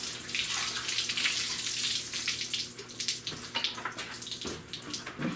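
A water hose sprays and rinses down a rusty car frame being prepared for POR-15 paint, a steady close hiss and splatter of water on metal that holds throughout with uneven surges.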